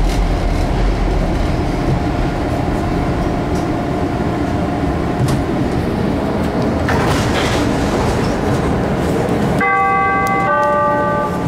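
A CTA Blue Line subway train bound for O'Hare rumbles loudly and steadily underground at night, with a bright ringing chime tone rising near the end.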